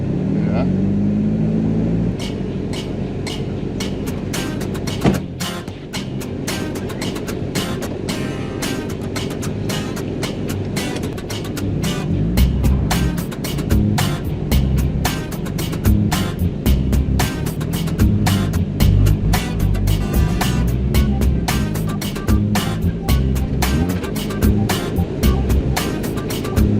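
A Nissan D21 Hardbody pickup truck drifts on a frozen lake, its engine droning and revving steadily for the whole stretch, with rapid clicking and crackling over the top and no talk.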